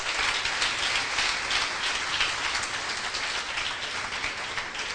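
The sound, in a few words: congregation applauding in church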